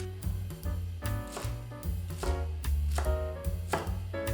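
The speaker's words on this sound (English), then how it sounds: "for the Chinese cabbage, I'm going to cut it into medium chunks" A knife cuts Chinese cabbage into medium chunks on a board, about a dozen crisp, crunchy chops in an uneven rhythm, close and distinct with no talking.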